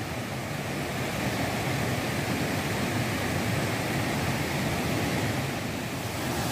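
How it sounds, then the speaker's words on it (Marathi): Vyaghreshwar waterfall in Manche village, Devgad, a loud, unbroken roar of falling water heard from close by, dense and steady with no voices. "आपलं व्याघ्रेश्वर वॉटरफॉल, व्याघ्रेश्वर धबधबो"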